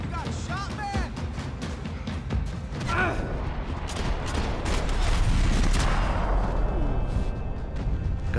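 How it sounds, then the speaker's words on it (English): Gunfire rings out in the Max Payne video game, a dense barrage of shots and booms building in intensity, with game dialogue running beneath it. "Gunfire over Hoboken."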